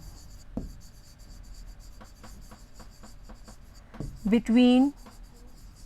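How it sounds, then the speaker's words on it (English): Pen or marker writing numbers by hand during a maths lesson, a steady series of short scratchy strokes at close range, with a voice talking over the start and end. "So we write the whole numbers"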